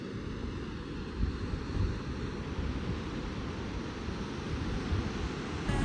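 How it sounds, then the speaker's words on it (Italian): Sea waves at the Cabo da Roca cliffs make a continuous broad wash of surf heard from far below, mixed with steady wind rumble on the microphone. "Ascoltate un po' il rumore del mare."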